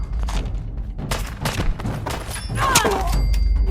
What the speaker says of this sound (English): As expected, the Tommy gun did a lot of damage to me